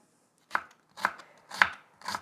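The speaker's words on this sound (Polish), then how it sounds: "Możemy pokroić piórka cebulę," Knife slicing an onion into thin strips on a board while making zucchini soup: four crisp, evenly spaced chops, close and distinct, with brief quiet between strokes.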